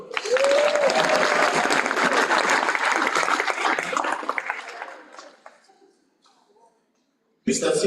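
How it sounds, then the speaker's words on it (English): A graduation audience breaks into loud, sustained applause at a spring diploma ceremony, dense clapping lasting about five seconds before tapering into near silence, then a fresh burst of clapping at the end. "Let's give ourselves a round of applause."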